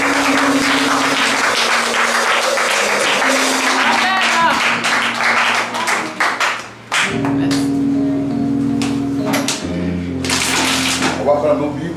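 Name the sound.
congregation applauding in church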